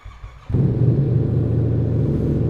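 A Yamaha MT07 motorcycle with a de-baffled Roadsitalia titanium exhaust bursts from a low idle into a loud, sustained deep rev close by, holding a rough, throbbing roar to the end.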